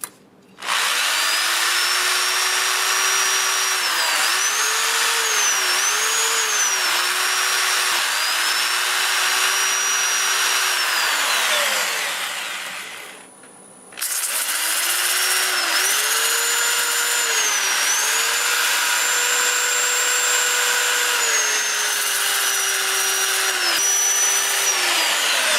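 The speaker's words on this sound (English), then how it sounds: "then I can run the lathe in reverse at about 400, and I'm going to start with 80 grit and sand up through 400." A wood lathe runs in reverse while a black walnut piece is sanded, giving a steady high motor whine with a brief spin-down and restart partway through and a rubbing abrasive hiss underneath.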